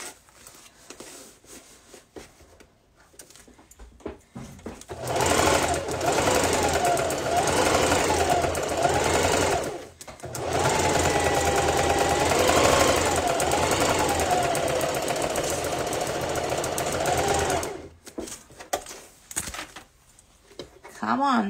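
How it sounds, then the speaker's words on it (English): A sewing machine stitches around a scrap yarn bowl in two sustained runs, loud and close, with a brief pause between them. Fainter handling noises come before and after the stitching, and a person speaks during the clip. "And then we are going to start sewing like that."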